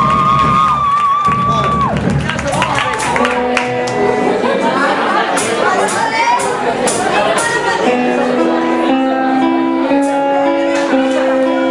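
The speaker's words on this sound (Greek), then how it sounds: "και πάμε να δυνατό χειροκρότημα" An audience cheers loudly and without a break, with whoops, shouts and whistles, while voices call out across the crowd.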